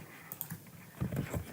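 Quiet keyboard typing while entering a pip uninstall command for Django, with a light tap or two early and then a brisk cluster of keystrokes toward the end, close and alone.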